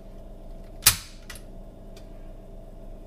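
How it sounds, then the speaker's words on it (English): A single sharp click as the JTS M12AK shotgun's two-stage trigger is pulled with a Lyman digital trigger gauge, followed by a couple of fainter mechanical clicks, close and alone in a quiet room. "I'm going to check it with a Lyman digital trigger gauge here and show you just how good it is"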